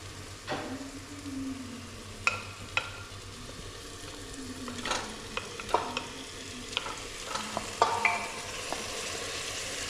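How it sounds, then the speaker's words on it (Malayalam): About a kilo of washed chicken pieces sizzle in a pan while a spoon stirs and scrapes, with irregular clinks and knocks over a steady frying hiss. "നമുക്ക് ഇനി ഇതിലേക്ക് ചിക്കൻ ഇട്ടു."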